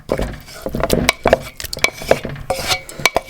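Prawns dropping and being stirred into mashed potato with stock in a pot, a series of soft wet thuds and utensil clinks against the pan, close and irregular, without any voices.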